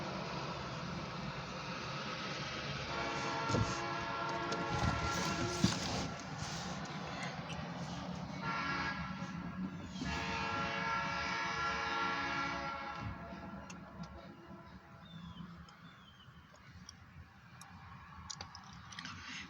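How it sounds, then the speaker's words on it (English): An OC&T passenger train near Titusville, Pennsylvania, rumbles steadily past at close range, with a sustained horn blast rising over the rolling wheels and a few faint clicks from the rails. "We have an OC&T's passenger train."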